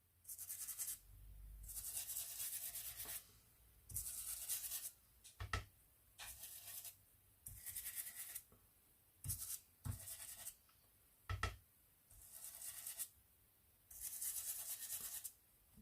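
Orange ink is rubbed onto a card for crafting, giving repeated soft scratchy rubbing bursts in a steady back-and-forth rhythm with short pauses between passes, close and quiet.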